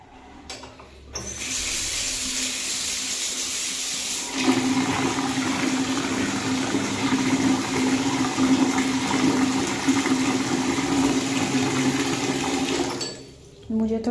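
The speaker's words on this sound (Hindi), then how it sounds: "मैंने थोड़ा सा यहाँ पे इसमें ठंडा पानी मिलाया है" Cold water gushes steadily into a basin of hot foot-soaking water, a loud, continuous rushing pour lasting about nine seconds before stopping abruptly.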